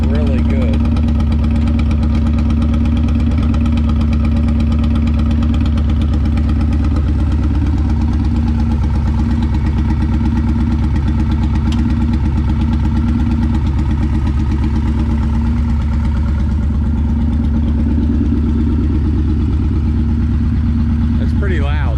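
A 2003 custom motorcycle, stored for years, runs with a loud, steady idle throughout, a deep, even throb close by with a slight rev near the end.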